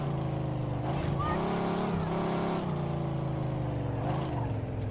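Car engine in the video game Mafia 2, a steady mid-level motor drone with gear changes and rising revs, heard close and continuous without talk over it.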